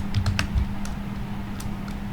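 Computer keyboard typing while writing AJAX code for a CodeIgniter e-commerce site, a few quick keystrokes up front and then scattered single taps over a steady low hum.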